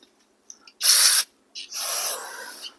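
Brake cleaner is sprayed onto the clutch intermediate plate of a 1968 Moto Guzzi V7 700 motorcycle in two close, loud aerosol hisses, a short burst followed by a longer one.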